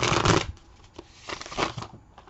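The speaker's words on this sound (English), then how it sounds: "We will shuffle these cards up" Tarot cards shuffled by hand for a weekly reading, a loud riffling burst at the start followed by several softer, intermittent shuffles and card slaps, close up with no talking.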